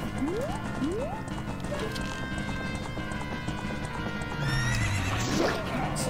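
Horse in the Zelda Ocarina of Time 3D video game gives loud whinnies, with rhythmic clip-clop hooves and galloping over game music, a long neigh rising and falling near the end.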